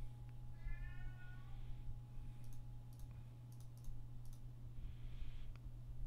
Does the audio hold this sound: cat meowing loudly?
yes